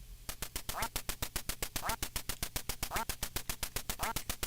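Duck Hunt on the NES: a steady, fast rhythm of clipped game sounds with a duck quack recurring about once a second. The sequence is continuous and fairly loud, with no speech.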